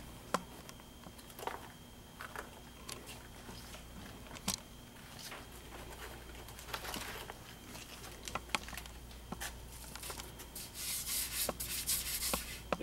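Wood filler in cracks being sanded by hand with 120 grit sandpaper, a steady close scratchy rubbing in repeated strokes, with no talking.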